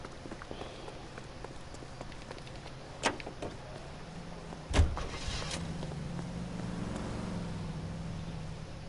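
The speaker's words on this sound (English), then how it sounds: "In our normal police car." A police car driving in the video game LA Noire, a steady low engine drone and road rumble with a sharp thump partway through and a rising hum near the end.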